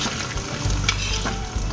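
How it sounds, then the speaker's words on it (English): An egg fries in a pan while hot fat is spooned over it, a close, steady crackling sizzle with small spatters and scraping stirs, no voices. "Yes, guys, I am basting the egg."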